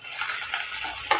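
Chopped tomatoes sautéing in a hot pan with curry leaves for a Tamil egg curry, a steady close sizzle with a brief stirring scrape near the end, no voices.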